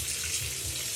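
Water runs hard from a tap in a wet room with too much pressure, a steady close hissing gush with no talking.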